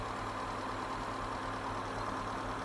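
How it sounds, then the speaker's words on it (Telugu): A Hyundai Santro petrol-LPG car engine idles with a steady, even low hum and faint mechanical whir, close by and continuous throughout, with no talking. "ఇంజిన్ మాత్రం చాలా సైలెంట్ ఉందండి"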